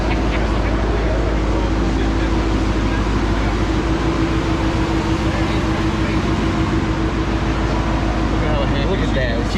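A VMP Odin supercharged 2019 Mustang GT runs a full pull on a Mustang chassis dyno, a dense, loud, unbroken engine drone with supercharger whine holding steady throughout, close by in a shop.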